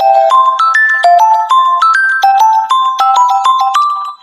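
A custom ringtone plays on an Android phone, a bright electronic melody of evenly spaced tones stepping up and down in a repeating pattern, loud and close with no voices.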